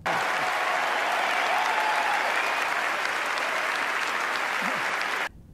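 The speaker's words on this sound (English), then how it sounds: "I'll give you 5 seconds to clap." A conference audience bursts into sustained, dense applause after an educator award is announced, steady and loud for about five seconds before cutting off abruptly.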